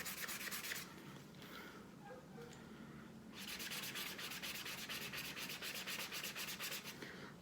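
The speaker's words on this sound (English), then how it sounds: "you can see where I've started to sand that part, just keep sanding." Close, rhythmic rubbing of sandpaper across an alcohol ink surface to reveal glitter underneath, with quick back-and-forth strokes, a brief lighter pause, then vigorous sanding again.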